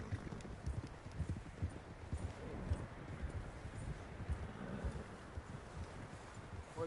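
Horse hooves galloping across open ground in the Red Dead Redemption 2 video game, a steady dense clatter of fast hoofbeats continuing throughout with a faint wind-like hiss beneath.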